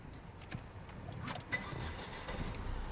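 A Volvo car engine cranks and catches, a quiet short start that settles into a low, smooth idle, heard from nearby and faint overall.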